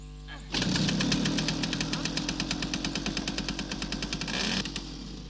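A Jawa Pionýr moped is kicked and its small two-stroke engine catches, then runs with a fast, even putter for several seconds, close and clear, before cutting off.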